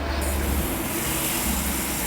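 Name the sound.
hose sprayer on shower setting spraying outdoor AC coils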